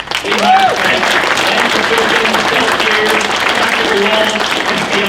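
Loud, sustained audience applause at the NRA 2016 gathering, thanking sponsor Kinetic Development Group; many hands clap steadily while a voice or two briefly calls out over the crowd.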